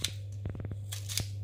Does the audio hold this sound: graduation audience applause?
no